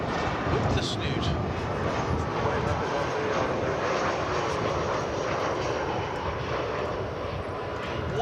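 An American Airlines airliner in special PSA livery lands at Dallas Fort Worth airport, its broad, loud engine roar sustained and steady throughout.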